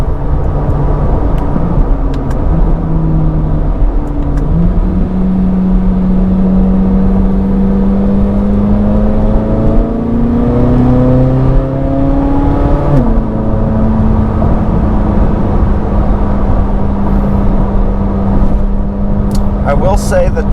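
A 2024 Corvette C8 Z06 1LZ with its 670 hp naturally aspirated engine, heard from inside while driving: a loud steady drone with rising and falling engine tones as it shifts and accelerates, under continuous talk.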